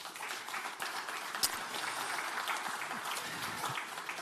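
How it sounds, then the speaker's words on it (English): Audience at a strategic forum applauding the introduction of a foreign minister, an even wash of many hands clapping that stays steady and fairly quiet for several seconds. "Please give him a round of applause."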